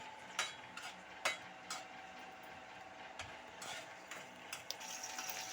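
Green chillies frying in a spoon of oil: a faint steady sizzle, close and quiet, with occasional small clicks and taps of a utensil stirring.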